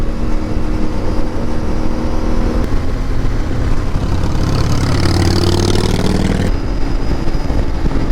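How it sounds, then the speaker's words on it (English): CF Moto MT450 motorcycle engine running with a light dry-clutch-like grind and rattle, a steady mid-pitched mechanical hum with a brief rougher, louder stretch in the middle, no talking. "It's almost like a dry clutch noise, like of a Ducati V4. You know that like little like grind and rattle?"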